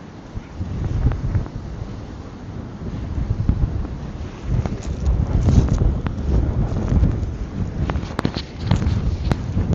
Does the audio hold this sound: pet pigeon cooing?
no